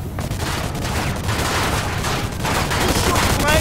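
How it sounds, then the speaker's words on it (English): Rapid gunfire in Mafia II Definitive Edition, a loud dense fusillade of overlapping shots and bursts that continues without pause for the whole stretch. "You shoot the legs over there!"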